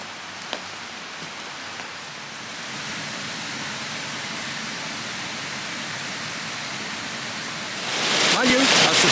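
A waterfall at Snope Burn Colliery gives a steady broadband rush, a constant wash of falling water that grows louder and brighter near the end as it is approached, with no voice.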